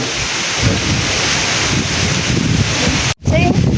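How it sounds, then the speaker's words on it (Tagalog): Strong wind lingering after Typhoon Nando roars and buffets the microphone in a loud, continuous rush, broken by a brief dropout near the end. "Malakas pa rin yung hangin"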